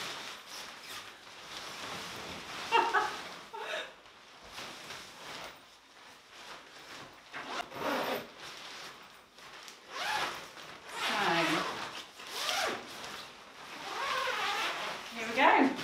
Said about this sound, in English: There's another zip there.